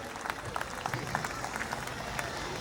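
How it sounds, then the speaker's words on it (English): Audience at a school annual day celebration applauding, scattered distinct claps over background murmur, fairly quiet and distant. "Let's have a huge round of applause for all our ex-fortunates."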